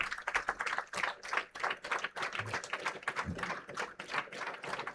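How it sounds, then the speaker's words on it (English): A convocation audience applauds the chief guest, a soft, fairly distant patter of many hands clapping steadily for several seconds with no talk over it. "Please join me in extending a warm and a gracious round of applause"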